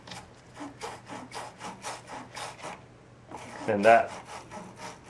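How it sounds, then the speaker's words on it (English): A wire brush scrubs corrosion from a car battery post in repeated rhythmic back-and-forth strokes, close and fairly loud, followed by a brief pause before scrubbing resumes under a short spoken phrase. "Get rid of all the corrosion, and then you can clean the post."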